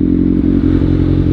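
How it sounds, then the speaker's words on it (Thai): A motorcycle or other vehicle rumbles past close by on a road at midday, a steady loud low drone with faint clatter over just over a second. "เดี๋ยวรอให้รถมันไปก่อนนะมันเยอะเหลือเกิน"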